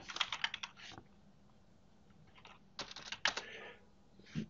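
Computer keyboard typing in a code editor, quick close clicks in bursts with short pauses between them, quiet and alone.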